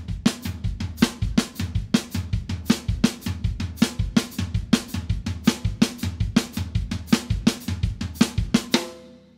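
A drum kit plays a fast, steady sticking pattern with doubled strokes closing each phrase, a crisp run of sharp even hits that keeps a driving pulse, close and clear with no talking, then ringing out at the end.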